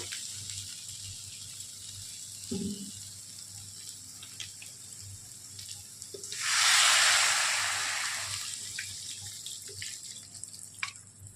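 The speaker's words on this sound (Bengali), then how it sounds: "এবার এটাকে জল ঢেলে দেবো জল দিয়ে দেবো এবার এটার মধ্যে" Water is poured into a pan of soybean curry cooking on the stove, a loud rushing splash lasting a couple of seconds over a low steady kitchen hum, with faint clinks before and after.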